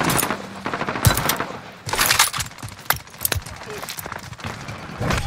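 Rapid bursts of automatic gunfire and scattered single shots ring out in Call of Duty Warzone on Rebirth Island, loud and close, mixed with game announcer voice lines and other game sounds.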